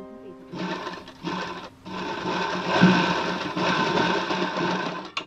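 A sewing machine stitches a princess-cut blouse in steady mechanical bursts, a short run, a pause, then a longer continuous whir close at hand, with a voice speaking briefly over it.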